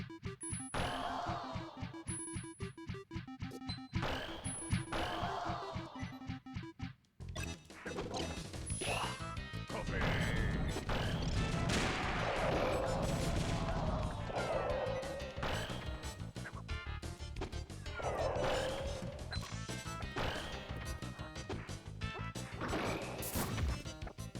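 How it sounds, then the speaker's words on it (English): Crashing, smashing hits from a Super Smash Bros. match, with a glass-shattering effect among them; repeated loud impacts over busy game music and effects, with no talk. "Forgot about that glass breaking sound."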